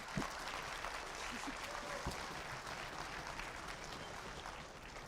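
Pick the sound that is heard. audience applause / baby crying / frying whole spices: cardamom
audience applause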